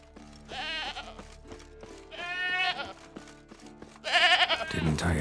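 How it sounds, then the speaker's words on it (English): A goat tied to a stake as forktail bait in The Witcher 3 bleats three times, loud and close, each cry a wavering, nasal call with quieter game ambience between them. "Can't smell Eskel, but there is the goat."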